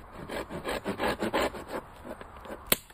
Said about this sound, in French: C'est des scies.